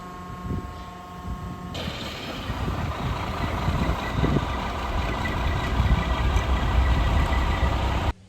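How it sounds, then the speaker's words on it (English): The engine of a cement pumping truck idles at a greenhouse foundation construction site, a steady loud rumble that holds for several seconds. "They got the pumping unit for the cement there that just arrived, and pretty soon the cement trucks are going to come in."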